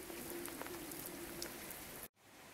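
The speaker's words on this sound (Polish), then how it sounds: "no ale pada deszcz" Light rain falls on a warm winter day among Christmas street decorations, a soft continuous patter with a few scattered drops and a faint tonal hum, ending with a brief cut to near silence before the hiss resumes.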